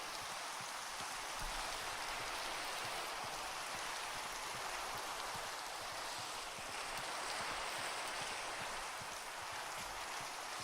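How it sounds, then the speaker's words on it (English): Steady, dense rain hiss fills a video game scene in FEAR: Nightfall, an even wash of falling rain with no break, heard alone at moderate level throughout. "Yes, yes, it's raining"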